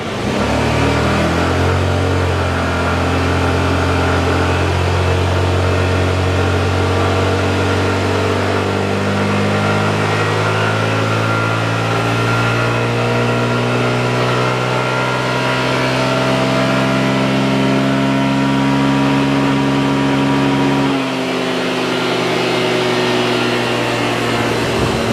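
A Yamaha RayZR 125 scooter runs on a dynamometer from a standstill, its engine rising in pitch through a long, loud, continuous rev before dropping abruptly near the end, close and without talk.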